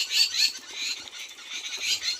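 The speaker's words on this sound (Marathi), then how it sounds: "आता आंब्या पक्ष्यांचा चिवचिवाट चालू आहे" High, thin bird chirps repeat in quick bursts near ripe mangoes in the morning, fairly faint and alone with no talking.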